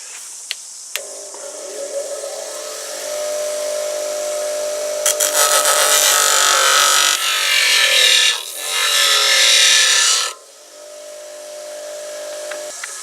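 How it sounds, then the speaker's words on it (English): Bench grinder grinding down a nylon pin for a Ruger 10/22, a steady high whirring hiss that swells as the workpiece is pressed in, with a brief dip before a final stretch, then the motor spinning alone. "we're just going to tack it on the grinder"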